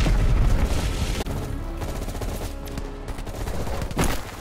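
Gunfire in a Call of Duty Black Ops Cold War firefight: dense close bursts of shots and booms crackle continuously, with scattered louder cracks over a rumbling backdrop.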